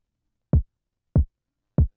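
Three clean kick drum hits played in FL Studio without clipping, evenly spaced about 0.6 seconds apart, each a short, punchy low thump alone against silence.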